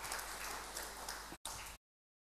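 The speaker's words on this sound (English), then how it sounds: "Give her a round of applause" Church congregation giving a round of applause, dense and steady clapping filling the room, cutting out briefly and then stopping abruptly.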